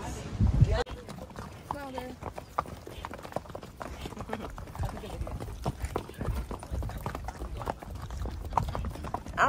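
Horse hooves clip-clop at a steady walking pace during a horseback-riding excursion in Tamarindo, Costa Rica, close by, with people talking over the sound.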